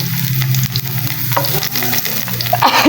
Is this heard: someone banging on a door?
no